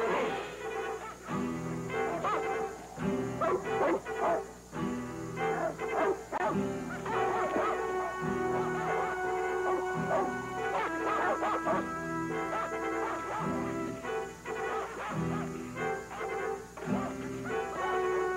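A hunting dog tracking a bighorn ram in the Kootenay mountains barks and yips repeatedly in loud, excited bursts, close up, with whimpering between barks and dramatic orchestral music underneath.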